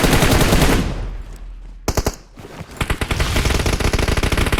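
Rapid bursts of automatic gunfire in the mobile battle royale game PUBG Mobile, loud and close, with a dense volley at the start, a brief lull, then renewed fast repeated shots.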